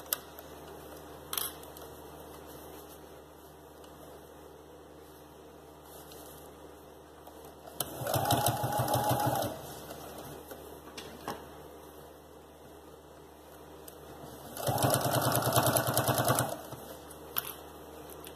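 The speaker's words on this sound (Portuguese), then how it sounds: "vou costurar toda a volta com a mesma margem de todo o" A sewing machine stitches around a baby shoe in two bursts of rapid mechanical whirring, each lasting about two seconds and separated by quiet handling noises, close and without talk.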